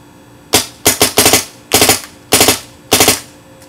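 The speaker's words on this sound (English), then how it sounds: "So in 3-round burst on, I set to 14 balls per second." A BT TM-15 paintball marker fires in three-round bursts at 14 balls per second, giving six sharp, close bursts of rapid pops spaced roughly half a second apart, with no voices.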